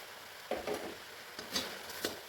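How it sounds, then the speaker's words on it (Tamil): Sugar being stirred into milk in a pan for kalakand, a Diwali milk sweet: a few soft scraping, swishing strokes a few times over about two seconds, close and quiet, with no voices. "சர்க்கரை சேர்த்து கலக்கிறப்போ திரும்பவும் வந்து சர்க்கரை மெல்ட் ஆகிட்டு நல்லா கரைஞ்சிடும்"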